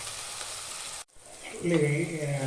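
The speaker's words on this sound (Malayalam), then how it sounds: "ഒരു ഗോൾഡൻ ബ്രൗൺ കളറിലേക്ക് വരണം. അത് ഇളക്കിക്കൊണ്ടിരിക്കുക." Beef roast masala browns in a pan under a steady sizzle that briefly cuts out, then returns as stirring continues, while a voice talks softly over the frying.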